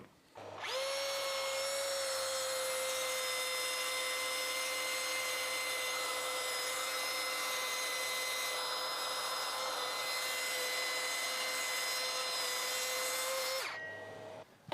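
A plunge saw set with a depth stop cuts steadily along a chipboard shelf board, a loud sustained whining motor and cutting drone lasting about thirteen seconds before spinning down.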